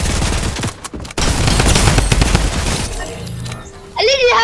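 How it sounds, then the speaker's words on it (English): Rapid automatic fire from a Shadow Midas drum gun, a mythic weapon in Fortnite, rattling loud and dense for about three seconds before dropping away, with game effects trailing at the end. "I have a Shadow Midas drum gun."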